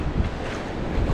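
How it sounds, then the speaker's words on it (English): Steady, loud wind buffeting the microphone at Nudgee Beach, a broad continuous roar with low gusty rumble and no talking. "This is looking pretty windy out here."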